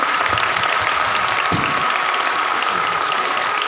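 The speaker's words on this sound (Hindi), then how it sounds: "इसके लिए सभी के लिए जोरदार तालियों से स्वागत करें" An audience applauds after a short play at a Buddha Purnima gathering, a dense, steady wash of clapping that holds evenly loud throughout without any voices over it.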